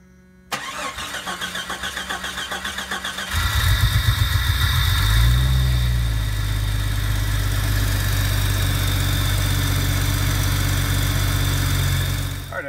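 A car engine cranks with the starter and catches after a fuel injector upgrade and PCM reset, then settles into a steady, loud, close idle that runs alone to the end.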